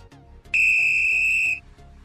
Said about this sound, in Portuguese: E o apito também um som longo